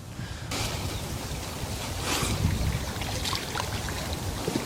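Wind-driven waves splash and rush at a freshwater fishing spot, a loud, continuous broadband roar with gusty buffeting that swells midway, no voices.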